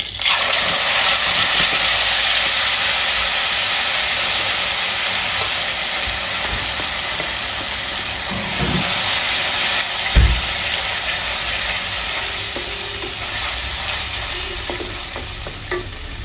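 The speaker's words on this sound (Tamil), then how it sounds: "இப்போ வந்து இந்த விழுதை வந்து இதில் விடுறேன்." Tomato chutney paste, made without onion or garlic, hits a hot pan and sizzles loudly and steadily, with occasional stirring scrapes and a few louder spatters.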